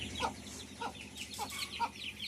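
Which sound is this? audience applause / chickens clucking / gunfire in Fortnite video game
chickens clucking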